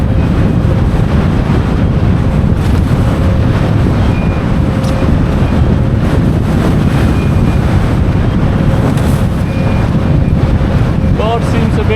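Strong gusting wind roars across the microphone while windfoiling on open sea water, a loud, constant rushing blast with water splashing beneath it.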